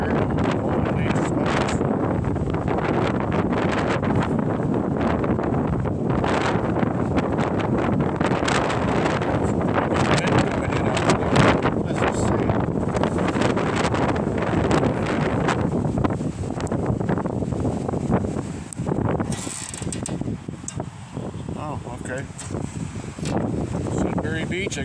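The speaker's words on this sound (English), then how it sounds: "Hope you can hear me over the wind here." Strong, constant wind buffets the microphone at Sudbury Beach in Penticton, a dense roaring rumble that fills the whole stretch with a voice speaking underneath it.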